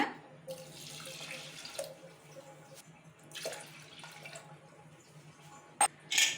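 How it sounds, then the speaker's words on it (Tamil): Water is poured from a large tumbler into a pressure cooker holding washed moong dal, a splashing, gurgling stream in a couple of bursts, ending with a few sharp metallic knocks. "பெரிய டம்ளரில் 2 டம்ளர் தண்ணி ஊற்றிக்கலாமுங்க."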